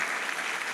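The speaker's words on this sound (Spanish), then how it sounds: "Yo le daría un fuerte aplauso al Señor Jesús." Steady, dense applause from a church congregation at a Spanish-language sermon, a short continuous burst of many hands clapping with no voices on top.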